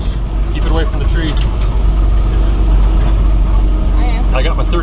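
An old Willys Jeep CJ5 engine runs steadily in low range off-road, a loud continuous low drone close by with a 13-year-old driving, while people talk over it.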